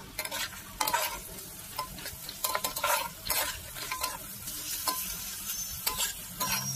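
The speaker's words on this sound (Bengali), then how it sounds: "এবারে এটা ভালোভাবে কষিয়ে নেবো তেলের ওপরে।" Spice paste stir-fried in oil for a koi fish curry: sizzling under repeated bursts of scraping and stirring against the pan, uneven and close, with no talking.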